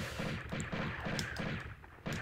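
Rapid gunfire and explosions in the rebooted Tomb Raider video game: a fast, rhythmic burst of repeated loud shots, close and continuous, with no talking.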